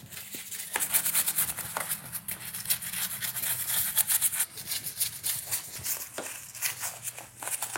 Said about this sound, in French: Avec un pinceau, une mousse nettoyante et de l'air comprimé, je vais nettoyer le moteur.